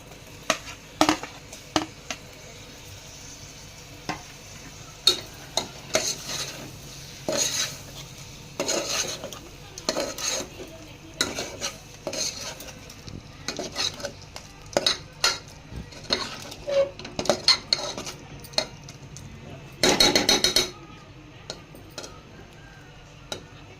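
Tomatoes for a village-style country chicken curry are stirred in a pressure cooker pot: a soft sizzle runs beneath irregular scrapes and metal clinks of a spoon against the pot, with a longer scraping burst near the end.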